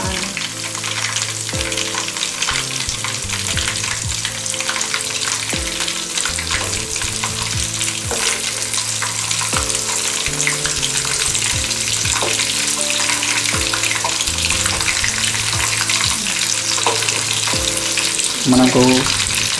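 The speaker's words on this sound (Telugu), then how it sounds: "ఇలా చికెన్ పీస్ మొత్తం నిండుగా చుట్టుపక్కల మొత్తం కాలేటట్టు కాల్చుకోవాలి" Chicken pieces for a KFC-style home recipe frying in hot oil, a loud, dense, steady sizzle that continues throughout with occasional stirring clatter.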